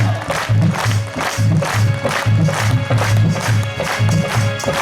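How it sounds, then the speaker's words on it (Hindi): Crowd at a devotional gathering in a pavilion tent, clapping in steady rhythmic bursts over loud, continuous music with a strong bass beat. "ये जो तालियां है ना, जरा एक बार गुंजा दो इस पंडाल को"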